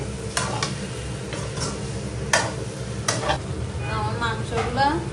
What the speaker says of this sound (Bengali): সানরাইজ মাংসের মশলা দিয়েছি একটু, আমি মিক্স করে দিচ্ছি।